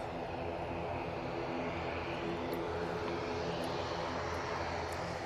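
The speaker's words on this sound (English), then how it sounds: "ATR prop, taking full length." ATR turboprop airliner rolling down the full runway length on takeoff at Manchester Airport, a steady heavy engine roar heard from a distance, with no voices.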